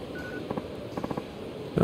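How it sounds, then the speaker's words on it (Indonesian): Telephone dialing tones in the video game Yakuza 4: a short run of close keypad beeps, two then four in quick succession, over a low game background with a brief louder sound at the end. "Coba kita telepon Hana-chan dulu nih."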